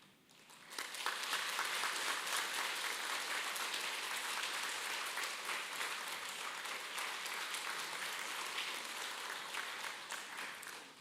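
A church congregation applauds together at a Sunday service, with dense, even clapping filling the room steadily for about ten seconds before fading out.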